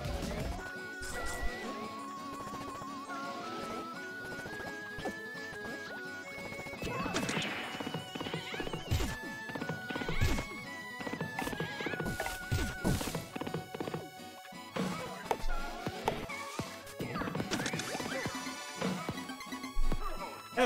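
A cartoonish horse in the video game Pizza Tower whinnies and clip-clops amid game music, with crashes and thwacks scattered throughout. Melodic tones run the whole time and a player's voice talks intermittently.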